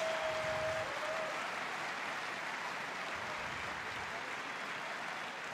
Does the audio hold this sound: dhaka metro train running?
no